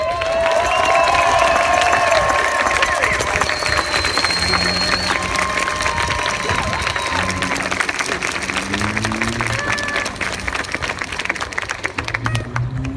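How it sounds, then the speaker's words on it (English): Steady applause and cheering from a gathered crowd honoring the Carmel girls swim team at a proclamation, loud and continuous throughout with voices mixed into the clapping. "All these girls and their teammates who are gathered with us here today deserve a great round of applause"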